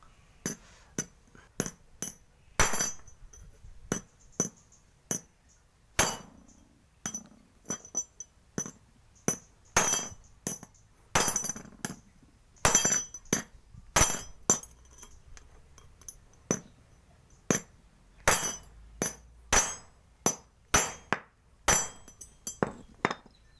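Sharp metallic hammer strikes ring out one after another at an uneven pace, tapping steel on steel close up while peening a DID motorcycle chain rivet head.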